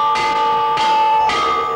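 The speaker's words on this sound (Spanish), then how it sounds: "juntos a tocar la campana para avisar a la jurado" A bell rung on a Spanish television variety show set strikes three times at even intervals, each stroke bright and ringing with a sustained tone that carries under the next, loud and close.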